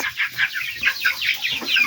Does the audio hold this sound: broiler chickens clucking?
yes